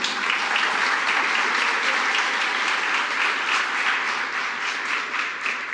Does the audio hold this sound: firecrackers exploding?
no